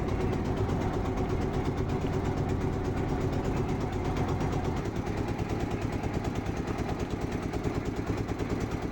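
A river trawler's engine chugs steadily on the Buriganga, a loud close throbbing drone with fast regular pulses and a deep low rumble, continuous throughout with no talk.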